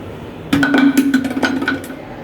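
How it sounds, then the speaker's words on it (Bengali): Stone muller working fried chapa shutki (fermented dried fish) into a bhorta on a Bengali shil pata slab: a series of close, sharp knocks and scraping strokes in an irregular rhythm, with no talking. "শিলপাটাতে এখন বাটবো"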